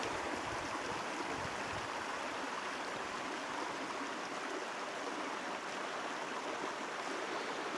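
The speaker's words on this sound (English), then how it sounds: "Creek's right below me." A creek flowing below a wooded hiking trail gives a steady, soft hiss of running water, continuous and fairly distant, with no talk.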